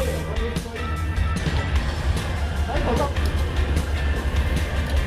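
Steady low rumble of a red train in motion on the way to Alishan, Taiwan, with constant rolling noise throughout and people talking over it.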